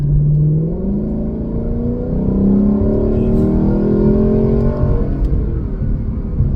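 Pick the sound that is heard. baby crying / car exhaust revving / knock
car exhaust revving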